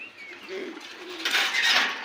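A pair of red magpie pigeons coos softly in a loft, with low rolling calls rising and falling over a faint background hiss.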